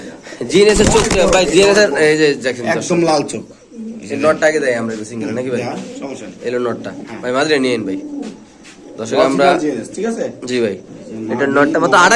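Pigeons coo softly and repeatedly in the background at a pigeon market while someone talks loudly over them almost the whole time.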